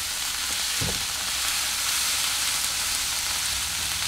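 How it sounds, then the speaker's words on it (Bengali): Capsicum and chopped tomato sizzle and fry steadily in a pan, a loud continuous crackle with a brief stirring clatter near the start, no talk. "এটা আমি এক মিনিট ভাজা ভাজা করে নেব।"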